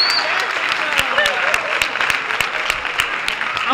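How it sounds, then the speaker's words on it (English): Big round of applause in a high school gathering for the staff and teachers, a dense, lively crowd of clapping hands with some cheers and voices mixed in. "I just want you to give a big round of applause for the staff, teachers, staff in this building"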